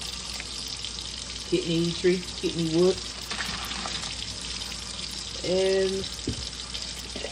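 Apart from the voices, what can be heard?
regular tap water running from faucet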